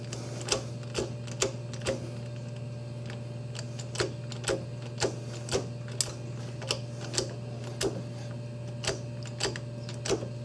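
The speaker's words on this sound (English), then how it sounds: "So I'm going to turn the crank. By the way, this is an 18mm socket. So let me get the ratchet" Ratchet with an 18mm socket turning the crankshaft of a Ford Escape engine during timing belt work, a steady run of sharp clicks repeating roughly every half second over a low hum.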